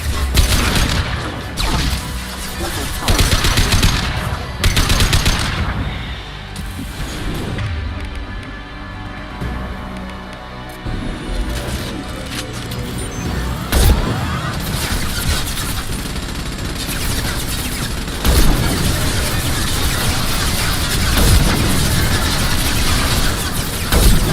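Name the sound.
gunfire in Mass Effect 2 video game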